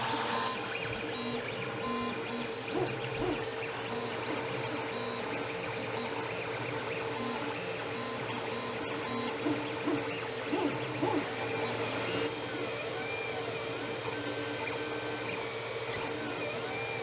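A 3D printer prints the input shaft of a vane pump with fan at full speed, giving a continuous close whirring and buzzing of stepper motors with shifting pitched tones and steady background fan noise, no voices.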